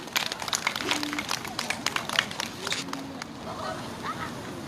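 An audience at a candlelight protest rally in Gimcheon applauds: a burst of many hands clapping near and fairly loud, then thinning out into a softer scattered patter with murmuring crowd voices underneath.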